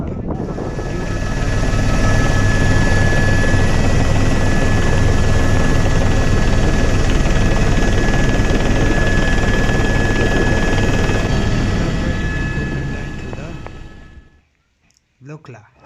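A helicopter drones loudly and steadily with a constant rotor and engine roar that cuts off abruptly near the end, on a flight in the Everest region of Nepal.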